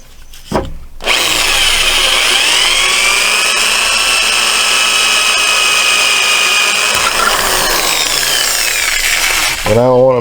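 Power drill cutting into a part on a Chinese CT-125 ATV four-wheeler, a loud, steady high-pitched whine held for about eight seconds before winding down, close up and alone.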